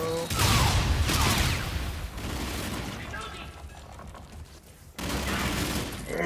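Rapid gunfire bursts and booming blasts fill a Call of Duty: Infinite Warfare match, loud and dense in opening and closing volleys with a quieter stretch of distant shots between, while a player talks over the action.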